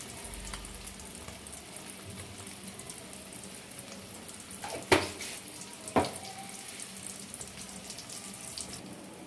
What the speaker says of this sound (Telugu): ఇవి ఎగ్స్ అన్నీ గోల్డెన్ కలర్లో వచ్చేసాయి ఆయిల్లో వేసాక